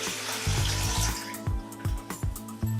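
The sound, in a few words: pouring filtered water into a bowl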